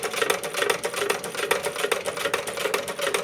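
A 1911 Singer 29-4 sewing machine stitching, a fast steady mechanical chatter of needle strokes repeating evenly and close up throughout, with no talk over it.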